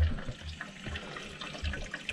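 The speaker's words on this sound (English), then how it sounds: "I can see quite a bit of water actually coming into the cistern." Water running into a slow-filling toilet cistern as the isolator valve is opened partway, a steady hissing trickle with low splashing underneath, close and fairly quiet.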